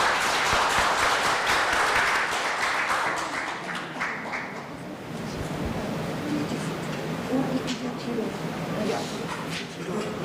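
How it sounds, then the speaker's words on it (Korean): Forum audience claps to welcome a vice minister of gender equality and family as she takes the stage, dense applause for about four seconds that thins out as a voice begins talking over the room. "김경선 차관님을 힘찬 박수로 환영해 주시기 바랍니다"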